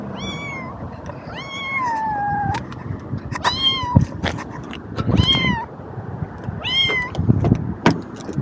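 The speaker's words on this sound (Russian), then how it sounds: "котенок на улице" A small kitten out on the street gives several high, drawn-out meows in a row, some rising and falling, heard close against a low background rumble of outdoor noise.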